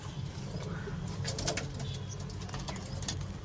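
Pigeons shut inside a coop give low, soft coos with occasional wing flaps, faint and steady over a low background hum.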